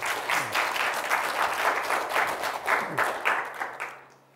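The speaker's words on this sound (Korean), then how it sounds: "박수로 맞아주십시오." An audience at a high school special lecture welcomes a university professor with warm, dense applause. Many hands clap continuously and loudly, then it tapers off near the end.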